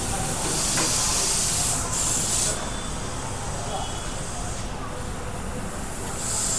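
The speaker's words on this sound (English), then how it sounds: "Bring in the nitrogen on the tire." Nitrogen hisses into a Kia Seltos SUV tyre in a tyre shop, a steady close spray that stops and restarts in bursts, with voices talking faintly beneath.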